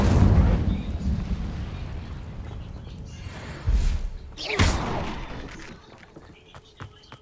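The Incendio fire spell in Hogwarts Legacy lands as roaring, explosive fiery bursts, with a loud whoosh at the start and two sharp blasts in the middle before the sound fades into a quieter tail.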